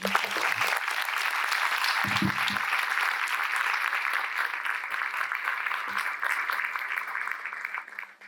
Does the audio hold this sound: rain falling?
no